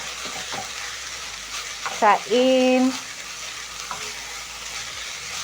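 Minced beef browning in a pan gives a steady frying sizzle with some stirring, while a brief clear voice-like tone rises above it midway.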